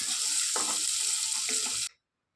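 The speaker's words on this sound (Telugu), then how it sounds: "ఒక పెద్ద ఉల్లిపాయ సన్నగా కట్ చేసి వేసుకోవాలి. అంతా బాగా తిప్పుకోవాలి." Thinly sliced large onion frying in a pan for a mirchi gongura curry, a steady loud sizzle with two bursts of stirring scrapes, then cutting off abruptly.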